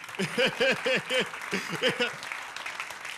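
Clapping from a comedy festival audience at a stand-up show, moderately loud and mixed with voices and laughter that rise in short bursts before fading.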